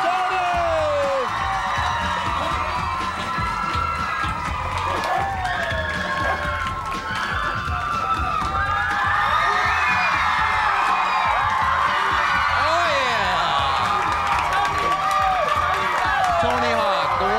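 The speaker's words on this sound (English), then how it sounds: "The crowd goes crazy." A large live crowd cheers, whoops and shouts continuously for a skateboarder's entrance through smoke at a touring skatepark show, a dense roar with voices mixed in throughout.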